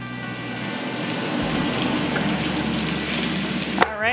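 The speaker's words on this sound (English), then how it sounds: "I'm just going to run over to the stove, fry these up" Food frying in a pan on a home stovetop during meal prep, a steady dense sizzle running close and continuous throughout, with a brief clatter near the end.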